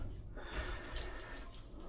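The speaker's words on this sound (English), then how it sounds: "don't know why there's water coming out already" Water rushes out of a boiler being bled of air during an HVAC service call, a close, steady splashing flow that starts suddenly and keeps running.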